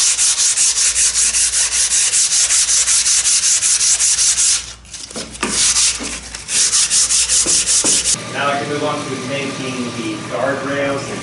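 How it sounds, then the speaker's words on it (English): Thickened epoxy is scraped off a wooden dinghy part during a deck and gunwales build, giving a loud, steady rubbing scrape that breaks off midway, then resumes more lightly while a person talks. "scrape off this thickened epoxy"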